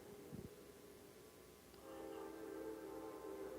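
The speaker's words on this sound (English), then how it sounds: "we just have to stop and listen to the train" A train passes at a distance, a steady low rumble with a horn-like tonal drone rising in and holding from about halfway through, heard alone with no talk.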